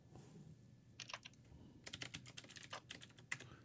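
Quiet computer keyboard typing comes in a short burst, then a faster run of crisp key clicks and taps, close and alone without talk.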